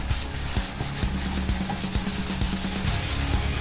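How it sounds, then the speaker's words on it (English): 400 grit sandpaper rubs briskly back and forth on a plastic model in quick, even strokes, close and steady, with no talking. "I don't want really aggressive 400 grit sanding"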